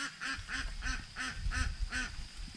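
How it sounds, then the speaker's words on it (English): Ducks quack in a steady rhythmic series, about seven evenly spaced calls, fairly close and alone without any talking. "the ducks are talking too."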